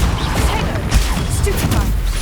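A Confringo spell cast in the Hogwarts Legacy video game, a dense crackling burst with thuds amid continuous loud battle noise, close and brief.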